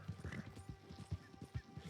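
Horse hooves clip-clop steadily in Red Dead Redemption 2, the rhythmic thuds carrying a brief whinny, heard fairly quietly in the game mix.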